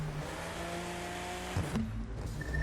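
A 2019 BMW Z4 M40i engine hums steadily in the racing game The Crew 2. The hum shifts pitch as the car changes gear, with tire and road noise, and stays faint throughout.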